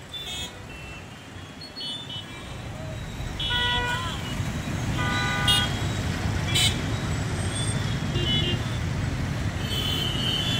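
Traffic jam at Elephant Circle on Mallapur main road, with a steady roar of idling and passing vehicles and a few short, scattered horn toots cutting through mid-distance.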